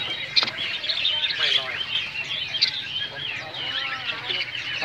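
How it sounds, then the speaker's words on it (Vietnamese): Small Java sparrows call at a bustling bird market in northern Vietnam, giving a steady run of high, thin chirps and tweets among many caged birds, with people talking nearby. "Thanh tước."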